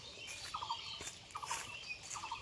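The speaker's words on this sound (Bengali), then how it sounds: "এই যে কী পাখি ডাকে," A bird outdoors on a summer afternoon calls in a steady repeating rhythm, three short bright chirping phrases spaced about a second apart, moderately near over faint background hiss.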